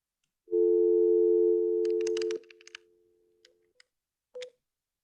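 Telephone line sounds on a call back: a loud steady tone rings alone for about two seconds, then a quick run of dialing beeps, a fainter lower tone, and a short final beep, with no talking.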